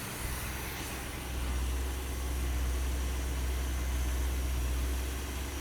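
A 1974 Plymouth Cuda with only 64 miles on it idles steadily nearby, producing a deep, even low rumble with a constant hiss on top. It stays unbroken for several seconds without speech.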